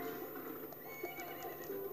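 Game horse from LittleBigPlanet's Gardens level neighing and whinnying over clip-clop hoofbeats, a loud, steady, busy cartoonish mix with no talk.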